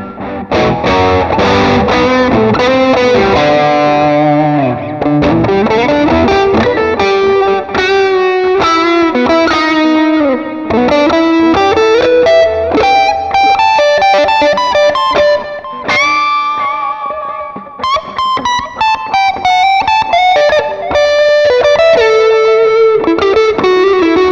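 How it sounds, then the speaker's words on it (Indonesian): Electric Telecaster-style guitar from JS Guitar played through a distortion effect, a continuous loud run of sustained, overdriven notes and bends with dense harmonic buzz. "Tapi aku kasih distorsi ya."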